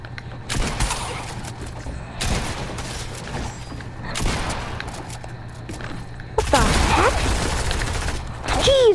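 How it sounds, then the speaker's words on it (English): SMG gunfire in the video game Fortnite: rapid, loud bursts of automatic shots arriving in several separate volleys, the last one heavier and sustained, with some game effects between them. "SMG spammers"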